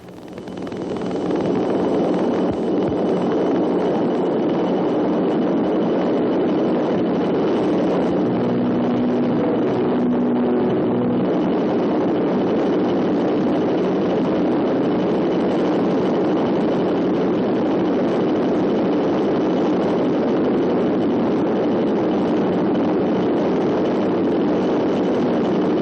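A firefighting aircraft passes low overhead during a water drop on a wildfire, giving a loud, sustained roar of heavy engine noise close by that fills the whole stretch without letting up and with no voices over it.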